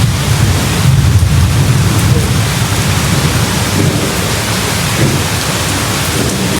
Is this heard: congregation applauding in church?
no